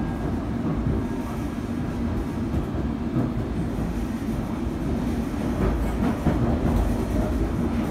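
A London Underground train running between Temple and Embankment stations, a steady rumbling roar of wheels on rails with faint rhythmic clatter, moderately loud and continuous throughout.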